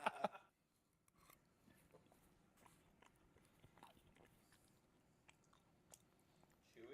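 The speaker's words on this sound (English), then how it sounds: "The fucking mango is like crunching in my mouth like it's candy" Someone chews crunchy mango close to the microphone, giving a quiet run of small crisp bites and squishy chewing crackles. A louder burst opens the sequence, with no talking over it.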